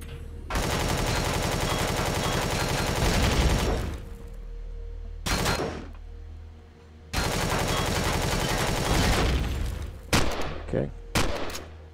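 Automatic gunfire in the video game Empyrion, long loud sustained bursts of rapid shots broken by short pauses, then a few scattered single blasts toward the end, close and harsh.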